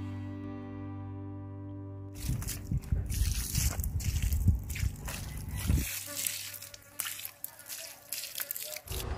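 Fermented microbial liquid fertilizer poured over a small pile of food scraps, a wet splashing and dribbling that runs for a few seconds, close and fairly soft, then trails off into lighter drips.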